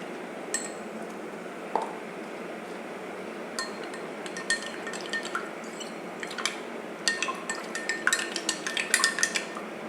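A spoon clinks and scrapes against a bowl while stirring a cornflour mixture for falooda custard, with light taps growing busier and louder toward the end over a soft kitchen background.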